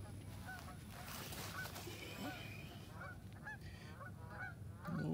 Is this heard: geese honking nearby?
yes